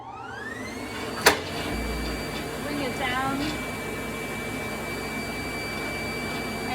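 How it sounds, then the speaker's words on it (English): A screen printing vacuum table runs with a continuous whirring hum, steady and moderately loud, after a sharp click as it switches on, while a voice speaks briefly. "I'm going to turn on the vacuum"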